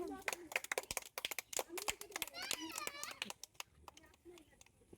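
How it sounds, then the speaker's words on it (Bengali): Several children clap in quick, uneven bursts during a sweet-eating challenge, close by and mixed in with lively children's chatter. "জোরে একটা হাততালি হয়ে যাক"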